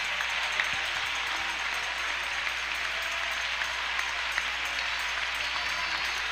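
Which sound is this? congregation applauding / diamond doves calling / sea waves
congregation applauding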